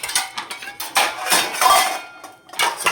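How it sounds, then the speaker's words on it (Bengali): Kitchen utensils, dishes and pots being put away after cooking, with several separate clanks and clinks of metal and crockery scattered across a few seconds, close and fairly loud, with no talking. "বাসনগুলো রেখে দিই"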